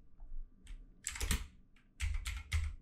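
Bursts of typing on a computer keyboard, close and fairly quiet, with irregular clusters of clicky keystrokes separated by short pauses.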